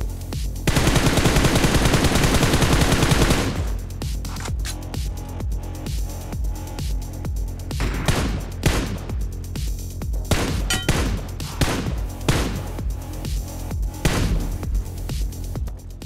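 Gunfire in a BGMI battle royale video game fight: a loud, dense automatic burst for about three seconds, then a scattered series of sharp single and double shots with short gaps between them.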